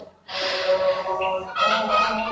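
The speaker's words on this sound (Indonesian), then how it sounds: "Kalau mau dengar suara, ada suara ayam tuh" A chicken gives a loud, close burst of clucking and squawking calls that run continuously after a brief quiet start, with no talking over it.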